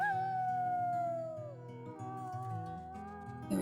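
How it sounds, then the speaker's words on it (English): A wolf in WolfQuest gives one drawn-out, wavering howl that slides slowly downward, up close and fairly loud, with other tonal game sounds running beneath it. "There we go. A little howl."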